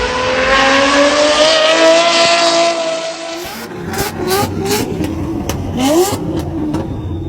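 A supercharged 660-horsepower TWR Supercat V12 super GT restomod revs loudly and close, its engine note holding steady before dropping off, then rising again in several sharp throttle blips with no talk over it.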